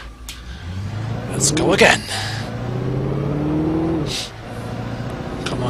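A car engine revs and accelerates in the video game Alan Wake, rising in pitch and then holding a steady drone, loud, with someone talking over it.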